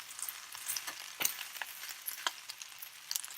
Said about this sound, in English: I'd say just fry the rice for about 10 minutes. Keep stirring it.